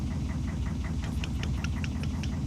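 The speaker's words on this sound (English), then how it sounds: "Oh god, I love the sound of that diesel idling." Steady low diesel idle from a fishing boat engine in a Barents Sea fishing game, a dense rumbling drone with faint regular knocking ticks above it, constant and close with no voices.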